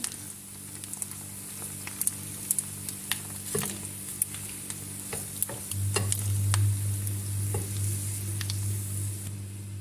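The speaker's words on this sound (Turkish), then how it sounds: "kısık ateşte kızarmaya bırakıyorum" Food sizzles and crackles steadily in a pan over low heat, with scattered pops and a low hum building partway through.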